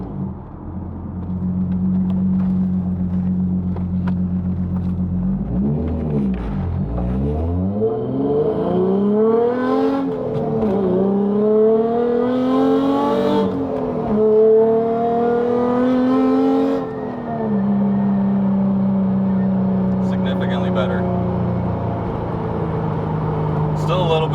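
A car's engine revs up through several gears after a DIY toe alignment, its pitch rising and dropping at each shift over a steady low drone, loud and close from inside the cabin.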